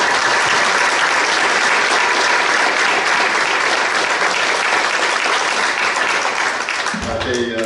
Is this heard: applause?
yes